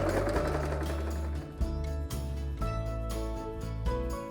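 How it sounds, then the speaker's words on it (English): Sewing machine stitching piping cord onto upholstery fabric, a steady mechanical whir with a clear needle rhythm running throughout, loud and close with only brief pauses. "you're just going to sew the whole way down."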